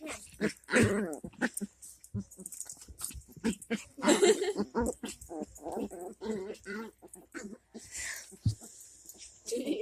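A dog growls and whimpers in a series of close, uneven bursts of low rumbling and whiny yips, with short quiet gaps between them.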